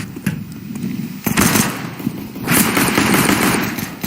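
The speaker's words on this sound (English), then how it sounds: "Shots with the bomb down." Dense, loud automatic gunfire from CS:GO on the Mirage map after the bomb is planted, rapid bursts of shots rattling continuously with short gaps and heavier volleys toward the end.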